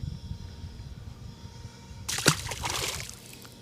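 A small male bass is let go by hand back into lake water, making a sudden close splash and slosh, a sharp burst followed by a second or so of splattering water.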